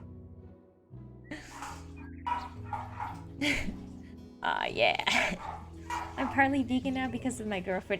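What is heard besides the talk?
dog barking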